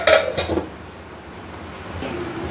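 A metal lid set onto a cooking pot of brinjal curry, two or three quick clanks close by in the first half second, followed by a quiet kitchen hum and a faint low simmer.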